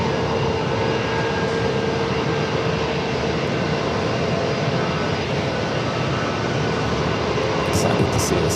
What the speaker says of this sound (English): E-Jet arriving on 27, coming in from San Jose, California, Alaska SkyWest, flight 3499